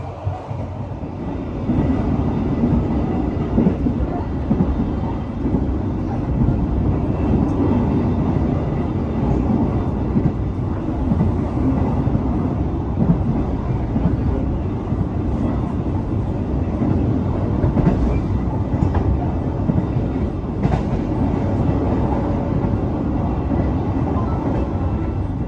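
Inside the Ambarawa Ekspres economy train, a steady loud rumble of wheels on rails fills the cabin with continuous low roar and faint rattling clicks throughout.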